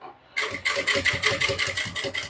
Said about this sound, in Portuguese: Costura de beiradinha aos 3 milímetros de distância da borda.